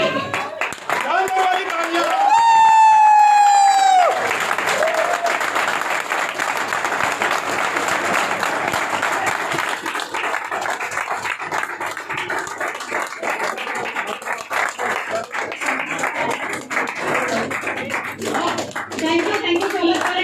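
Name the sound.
audience applause at hotel event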